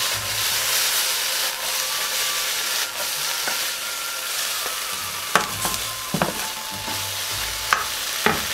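Chopped vegetables with chicken hearts sizzle and fry steadily in a hot pan as sesame oil crackles, with a few clacking spatula stirs and scrapes near the end.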